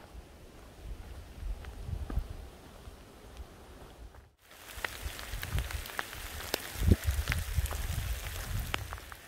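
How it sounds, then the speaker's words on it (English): Rain falls during a storm on a hilltop recovery run outdoors, a steady hiss of drops with some wind noise, briefly cut off partway through, then continuing louder and closer. "it looks like we're getting a bit of a storm, so the rain jacket's on"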